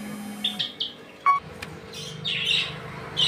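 Small birds chirp and tweet at a pigeon and bird shop, with short, bright calls scattered at irregular intervals over a low background hum and no talking.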